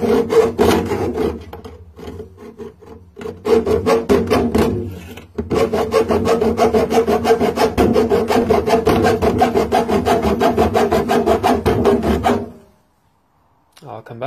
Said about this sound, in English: Then use the hacksaw to cut that off.